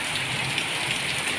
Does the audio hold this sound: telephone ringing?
no